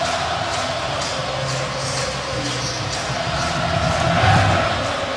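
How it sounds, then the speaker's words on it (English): Large stadium crowd at a Patriots versus Bills NFL football game roaring steadily, a dense continuous wall of cheering and shouting that swells slightly toward the end. "And now this crowd is alive, as Rich said."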